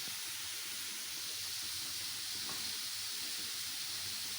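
Chopped tomato sizzling in a pan for chicken lasagna, a continuous even hiss with no breaks, moderately faint and close.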